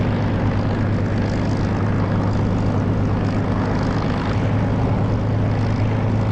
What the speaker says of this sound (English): The sound of this engine is not the sound from DCS, it's from Echo 19. It's a beautiful engine sound.